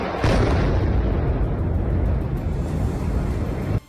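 A heavy, sustained explosive roar from a drone attack on Kyiv, a dense, loud rumble lasting several seconds before cutting off abruptly.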